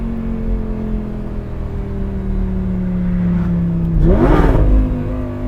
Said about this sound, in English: How can you not love that exhaust and the rev matching that the e-gear transmission does?